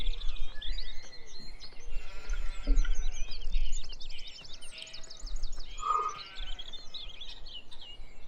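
Sheep bleat faintly amid a busy farming game soundscape, with bird calls and a low rumble running underneath.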